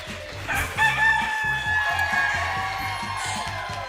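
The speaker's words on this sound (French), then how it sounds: "le chant du coq signifie un deuxième œuf" A rooster crowing sound effect on a Quebec game show about a golden-egg hen, a loud drawn-out cock-a-doodle-doo over studio background music.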